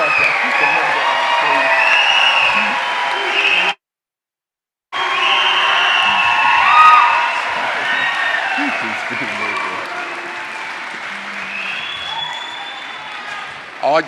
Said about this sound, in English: I take that as applause from me rather than the graduates